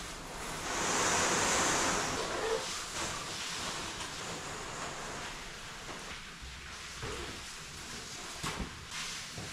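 Steady hiss of a hose spraying water over plants inside a greenhouse, a broad continuous rush that swells early on and then settles to an even wash.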